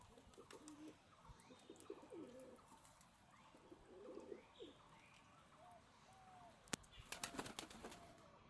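Many pigeons cooing and flapping their wings as they play in rainwater after long-awaited rain, with soft repeated coos and occasional sharp wing claps over a quiet outdoor background.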